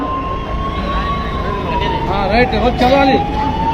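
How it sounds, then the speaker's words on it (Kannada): Ambulance siren wailing steadily, then warbling as it pushes through a dense crowd, loud and close, with someone shouting over it through a loudspeaker and crowd noise around. "ಬೇಗ ಬೇಗ ಆಂಬ್ಯುಲೆನ್ಸ್ಗೆ ದಾರಿ ಮಾಡಿಕೊಡ್ಬೇಕು"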